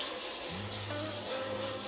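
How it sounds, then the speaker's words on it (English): Lukewarm tap water runs steadily from a faucet over an ultra-thin skin hair system being rinsed after shampooing, a continuous close splashing hiss with a low running tone and no voices. "we're ready to rinse with our lukewarm water"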